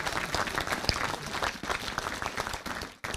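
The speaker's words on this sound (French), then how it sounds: "On peut les applaudir." Audience applause at a mayor's New Year ceremony, a dense crowd of clapping filling the room steadily before briefly dropping out near the end.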